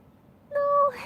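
A kitten wrapped in a blanket gives a single clear, high meow lasting about a third of a second. It rises out of quiet room tone and is followed by faint soft rustling.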